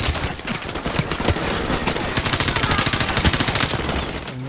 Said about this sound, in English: And now I'm being shot from the side.